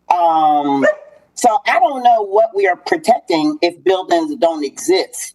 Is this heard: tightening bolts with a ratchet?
no